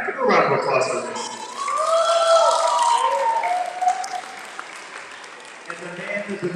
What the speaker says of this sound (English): Give a round of applause for this.